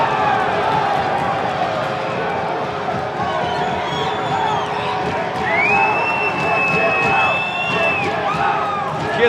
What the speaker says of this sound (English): Hear the chants from the crowd here.